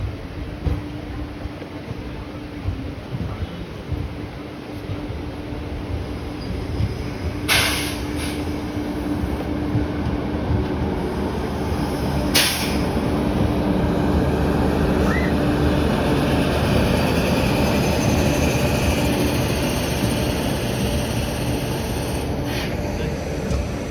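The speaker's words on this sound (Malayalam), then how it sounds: "അത് മറ്റേ കണ്ണൂർ ബാംഗ്ലൂർ എക്സ്പ്രസ് ഈ ഇടയിട്ട് കോഴിക്കോടിലോട്ടൊരു ട്രെയിൻ എക്സ്റ്റെൻഡ് ചെയ്തില്ലേ" The Kannur–Bangalore Express, recently extended to Kozhikode, rumbles at a station with a continuous low, loud roar of rolling railcars. Two sharp high clanks cut through the steady noise, and no clear talk is heard.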